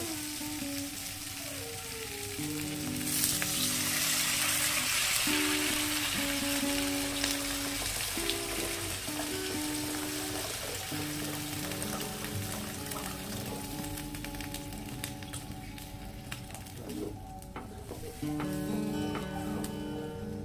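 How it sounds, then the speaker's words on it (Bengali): Water poured into a pan of tomato fish curry, a soft broadband splashing and sizzling that swells around the third second and runs steadily under a faint melodic background tone. "এবার দিয়ে দেব পরিমাণ মতো জল"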